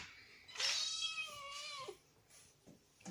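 Several kittens kept four to a cage in a home animal shelter let out a loud, high meow with a rising, wavering cry that trails off, followed by a fainter squeak near the end. No one speaks.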